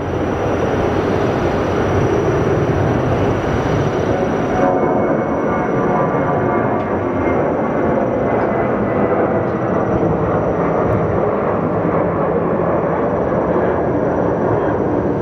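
A WestJet airliner departs Phoenix Sky Harbor Airport with a loud, sustained jet roar that fills the air. The hiss fades after a few seconds, leaving a deep rumble that carries on steadily, with no talk.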